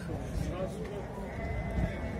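Lambs and rams bleat in short calls at a busy sheep market bazaar in Kyrgyzstan, heard under people talking nearby.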